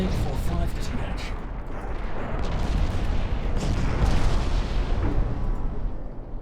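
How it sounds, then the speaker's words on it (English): Torpedo hits on a warship in the naval game Ultimate Admiral Dreadnoughts come as continuous heavy rumbling with repeated booming bursts layered over it, loud and sustained throughout. "One torpedo hit. 2 torpedo hits."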